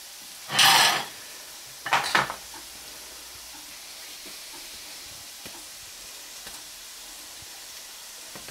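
Sauce for judiones marinera, with roasted piquillo peppers, gets two short scraping stirs in a pan near the start, over a faint sizzle, then stays mostly quiet with occasional soft ticks.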